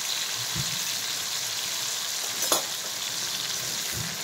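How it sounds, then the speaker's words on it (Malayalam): Pieces of bitter gourd fry in hot oil, a steady broadband sizzle that stays constant throughout, with a brief sharper crackle partway and a couple of low soft knocks near the start and end. "അതിലേക്ക് നമുക്ക് കുറേശ്ശെ ഇട്ട് വറുത്തെടുക്കാം."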